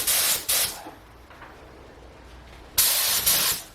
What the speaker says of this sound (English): We got some rust coat paint mixed up. Just going to test it on the chassis here.